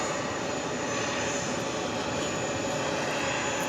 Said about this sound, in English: 577 taking off to Jacksonville on the A320 in the New York Jets livery.